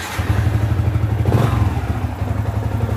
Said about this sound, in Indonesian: Jadi teman-teman bisa hidupkan motornya misalnya.